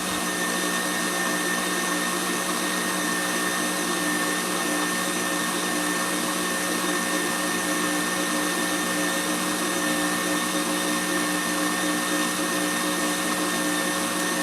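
An electric stand mixer runs at a high speed setting while whipping macaron mixture, giving a loud, constant motorised whine and hum that holds steady without a break.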